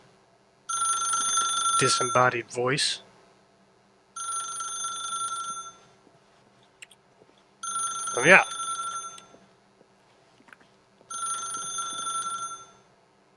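Repeated telephone ringing in The Stanley Parable video game: four evenly spaced bell bursts with pauses between, a short spoken line breaking in near the start and another voice cutting across the third ring.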